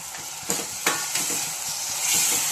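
Tomatoes go into golden fried onions in a pan for an akha masoor bhaji, giving a bright, steady sizzle with a few sharp splatter pops and scraping stirs, close and without talk.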